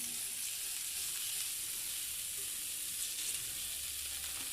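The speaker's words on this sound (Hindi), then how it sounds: "इसी तवे पे हम अब जो ब्रेड है इसको गर्म कर लेंगे।" Bread with butter sizzles steadily on a hot tawa griddle, a continuous close frying hiss with faint low clatter underneath and no talking.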